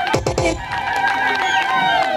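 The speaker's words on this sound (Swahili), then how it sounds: "Tumpigie makofi mengi sana." Audience at a Women's Day event clapping and cheering, a loud dense crowd roar with shouts and whoops continuing throughout the short stretch.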